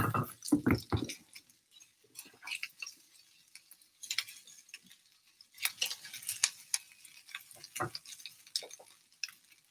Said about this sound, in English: So I'm just going to keep stirring.